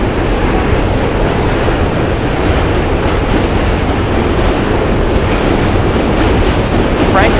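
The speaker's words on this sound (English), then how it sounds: "That's the Manhattan Bridge with its noise." Loud, continuous roar of a subway train crossing the Manhattan Bridge, with rumbling wheels and rattling clatter heard up close and unbroken throughout.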